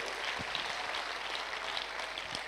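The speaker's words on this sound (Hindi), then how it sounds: "जोरदार तालियां हो जाए, जोरदार तालियां हो जाए।" Faint, distant applause from an audience at a SAFESHOP function in Lucknow, a thin, continuous wash of clapping at a low, even level.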